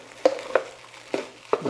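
A spatula stirs shrimp fried rice in a hot wok, making four distinct scraping knocks at uneven intervals over a faint background sizzle, close and moderately loud with no voices.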